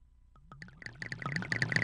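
Minecraft brewing stands running together, a rapid series of bubbling, plinking clicks that starts sparse and quiet and builds into a dense, louder patter.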